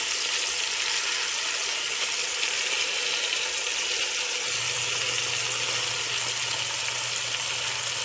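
Beef osso buco sears in a hot pan with a steady, loud, close sizzle and crackle, joined midway by a low sustained hum, with no talking over it.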